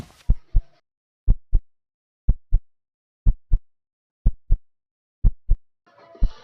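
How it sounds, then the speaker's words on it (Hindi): A heartbeat effect from the horror video game Hunted Property, with six steady, evenly spaced double thumps, each a deep lub-dub pulse, loud and close. Brief rustling noise opens and closes the sequence, and no one talks. "धड़कन।"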